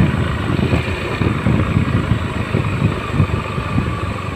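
A Honda Beat FI motorcycle engine idles steadily up close on a village road, a continuous low rumble with a fairly even pulse and no speech over it.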